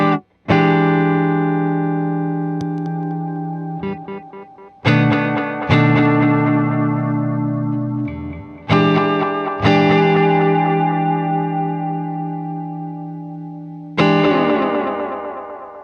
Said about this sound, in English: all of the delay and what you might hear as reverb on there came from this pedal